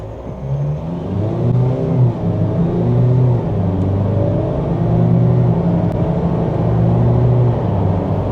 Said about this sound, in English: Should we try acceleration over here?